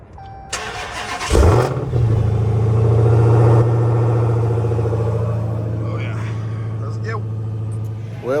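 A Kenworth W900 with a 550hp Cummins ISX diesel cold-starts: a brief starter crank, then the engine catches with a loud burst and settles into a deep, steady rumbling idle, with faint voices near the end.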